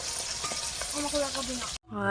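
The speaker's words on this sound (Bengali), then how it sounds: "এখন মাছ ভাজা বসিয়েছি" Steady, crackling sizzle of fish frying in oil in a pan, with a few soft clinks, then a brief cutoff before a voice starts.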